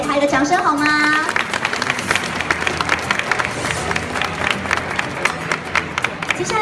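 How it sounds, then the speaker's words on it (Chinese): Audience applause at the 2015 Gunpla Builders World Cup award ceremony in Taiwan, a dense, steady wash of clapping from a crowd that swells in after a brief stretch of talk and carries on to the end. "我们先给他一个掌声好吗？"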